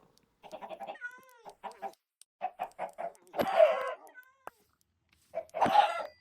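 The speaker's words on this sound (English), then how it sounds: "I think I'm just gonna kill the chickens and make new ones" Minecraft chickens cluck in short repeated bursts with a couple of louder squawks, fairly close and with no talk over them.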